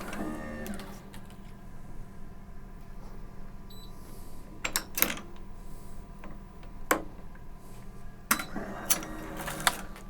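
An Ektelon racquet stringing machine tensions and clamps a string, giving sharp, irregular mechanical clicks and snaps over a low, steady background hum.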